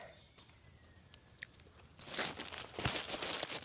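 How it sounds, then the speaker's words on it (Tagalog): A ripe wild guava bitten and chewed: a burst of close crunching and juicy crinkling after a quiet start, continuing in uneven chews. "Unang kagat."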